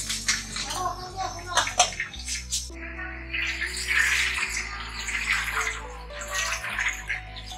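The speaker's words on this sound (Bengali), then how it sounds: "সয়াবিন গুলো জল দিয়ে রাখলাম ঠান্ডা হওয়ার জন্য" Water streams and sloshes over boiled soybeans in a kitchen pot to cool them while making spicy street-style Maggi masala noodles, a steady, close pouring that runs for several seconds.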